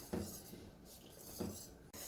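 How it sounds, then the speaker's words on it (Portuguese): A spoon stirs boiling blood orange cream in a pot, giving two faint metallic clinks spaced about a second apart in a quiet kitchen. "Vou deixar ele fervendo mais um pouquinho, mexendo de vez em quando, para não criar os grumos"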